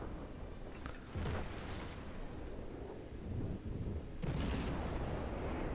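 Heavy naval gun salvos from the cruiser USS Erie in World of Warships, with deep booming blasts rolling out in a couple of loud bursts over a constant low rumble of battle.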